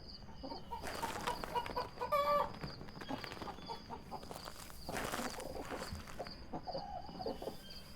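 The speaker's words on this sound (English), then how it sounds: "There's only ghost chicken noises in the chicken coop" Ghost chickens cluck inside a sealed chicken coop in the video game Phasmophobia, with several short clucks and a squawk at moderate level over a steady noisy ambience.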